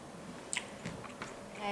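Kimbap with crunchy pickled radish being chewed close up, a few soft bites and crunches spaced over under two seconds, faint and quiet with no talking.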